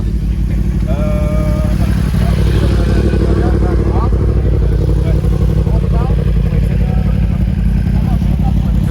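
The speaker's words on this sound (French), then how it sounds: "M3 compétition. Échappement titane, j'ai l'impression." A purple BMW M3 Competition with a titanium exhaust rumbles loudly in a street near Paris, a deep continuous engine drone with voices talking over it.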